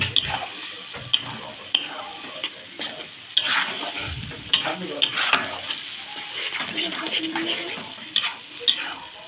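Bombay duck fish curry frying in a pan over a medium flame while it is stirred nonstop: a close sizzle with frequent scraping and clattering utensil strokes, and a faint voice in the background.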